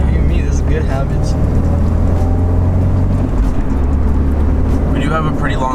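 A car drives along the road, its engine and tire noise forming a steady, loud drone throughout, with a voice talking over it.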